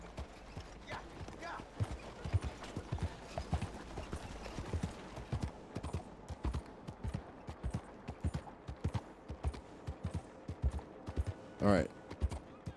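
Steady clip-clop of horse hooves at a walking pace in Red Dead Redemption 2, with a brief whinny or snort near the end and a faint ambient bed underneath.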